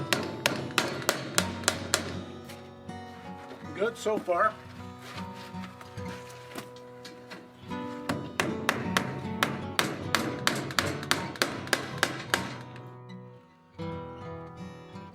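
Square nails are hammered into a wooden door for a hobbit-hole style hinge, with a long series of sharp, loud hammer strikes in quick rhythmic bursts and brief pauses. Someone speaks briefly.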